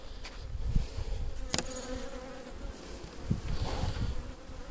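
Honeybees hum steadily from an opened beehive during an inspection, a dense, close, continuous buzzing with a few faint knocks and handling sounds.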